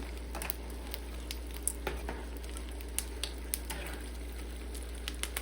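Pork rinds being stirred into salsa, giving soft wet crackles and small clicks against a bowl, spread irregularly over a low steady hum at close range with no talking.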